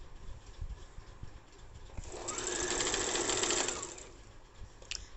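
A sewing machine stitches a salwar hem strip, rising into a steady buzzing run of a second or two that fades away again, with quieter fabric handling before and after.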